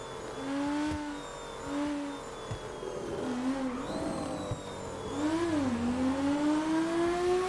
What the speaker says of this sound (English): the engine is like right behind your ears